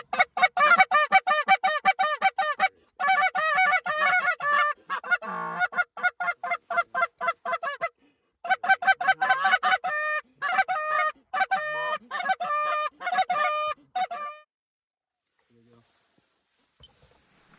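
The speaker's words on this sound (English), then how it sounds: "there's definitely geese over there" A flock of geese honks near a tall hay field during a goose hunt, delivering loud, dense bursts of overlapping calls for about fourteen seconds before falling quiet.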